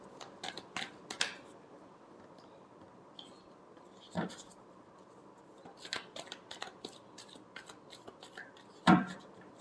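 Tarot cards being shuffled, a dry papery riffle and flutter in several quick bursts with short pauses, close and fairly quiet, ending in a sharper slap as the deck comes together.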